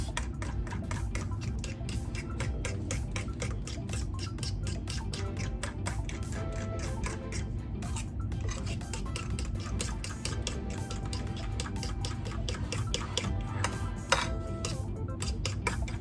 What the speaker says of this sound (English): we're just gonna mix this up and break up these yolks